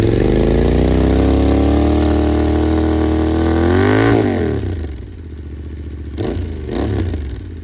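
A Royal Enfield GT650 motorcycle fitted with aftermarket Royal Moto exhausts rumbles loudly up close, revving up and holding before dropping back to a rough idle with a couple of short blips.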